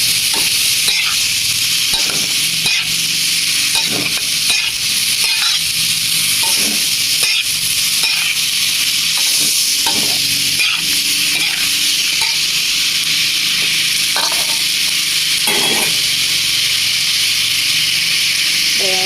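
Cucumber sizzles loudly in a hot pan while a utensil scrapes and stirs in repeated strokes, steady frying throughout.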